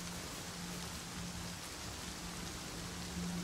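Steady rain in the survival game Rust, a constant broadband hiss with a low hum running underneath, unbroken for the whole stretch with no voices.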